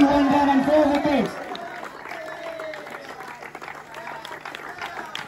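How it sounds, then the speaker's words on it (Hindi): A crowd claps at a cricket tournament semi-final presentation for the man of the match, brief applause at first under a loud announcer's voice, then lighter scattered clapping and outdoor noise. "जोरदार तालियां"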